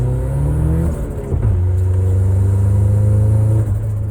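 Volvo 240 turbo engine revving hard under load with a loud exhaust, the pitch climbing, dipping at a shift, then droning steadily, close and continuous throughout.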